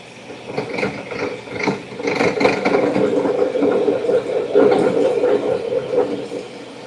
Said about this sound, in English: So we're just gonna drill halfway in there.